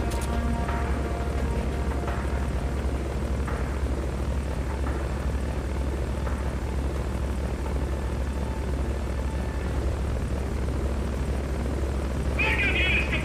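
A helicopter hovers overhead in the video game Metal Gear Solid: Peace Walker, a loud, continuous rotor thrum and engine drone that stays steady throughout, with faint game effects now and then.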